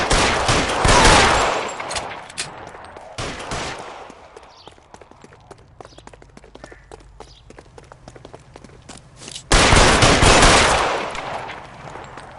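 Gunfire in L.A. Noire: loud rapid bursts of automatic fire open and close the stretch, with scattered single shots and running footsteps in the quieter middle.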